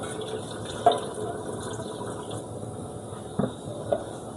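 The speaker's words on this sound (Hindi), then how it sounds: "अब हम इसमें पानी डाल देंगे और हम इसको रख देंगे गलने के लिए" Water being poured into a pressure cooker holding mutton korma with meat and tomatoes, a steady soft liquid wash with a few small splashes and drips, close and moderately quiet.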